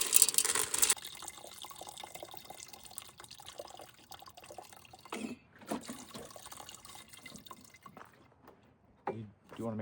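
Water poured from a tap or jug over dry navy beans for an overnight soak at a campsite, a steady trickling and dripping that runs under speech through much of the span.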